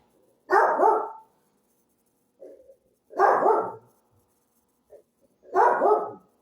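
A dog barks three times, close and loud, with evenly spaced pauses between barks and a couple of faint short sounds in the gaps.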